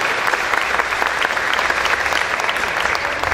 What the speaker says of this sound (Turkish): Bir de onları bir alkışlayın bakayım bir